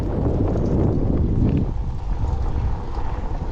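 Strong wind on an exposed hilltop plateau, buffeting the microphone with a loud continuous rumble that eases slightly after a gust, no voices.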